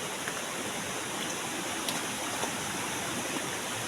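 A river flows with a steady broadband rush, moderately loud and even throughout, with no speech over the water.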